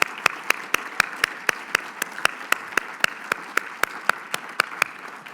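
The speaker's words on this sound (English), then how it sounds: "I think they deserve a round of applause." Audience members at an engineering awards event clap, with sharp, evenly spaced claps standing out close by over a soft bed of quieter applause throughout.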